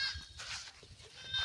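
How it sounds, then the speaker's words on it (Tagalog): Several goats, nearly all hybrids, bleat close by in overlapping calls, with rough low-pitched cries rising and falling over a short stretch. "Ito na po yung mga kambing ni Sir Agri dito."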